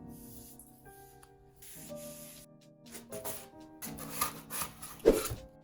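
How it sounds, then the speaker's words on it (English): 3M spray adhesive sprayed from an aerosol can onto paper templates laid on plywood, heard as a few soft bursts of hiss separated by quieter pauses, close by. "Then I used 3M spray adhesive to attach the templates to a piece of plywood."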